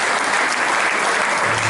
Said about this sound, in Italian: E facciamo un applauso alla processione dei misteri